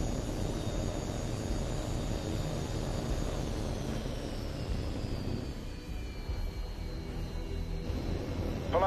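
Jet aircraft in flight in Tom Clancy's HAWX 2 give a continuous broadband engine roar with a slowly descending whine, loud and steady throughout, without speech.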